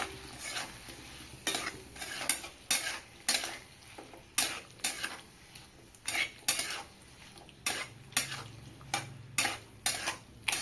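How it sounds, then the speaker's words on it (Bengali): Potatoes, onion and spice paste with turmeric, chilli and roasted coriander-cumin powder are stir-fried in a pan for a tilapia curry: rhythmic loud scrapes of a utensil against metal repeat about every half second over a low, steady sizzle. "দিয়ে ভালোভাবে কষিয়ে নেব।"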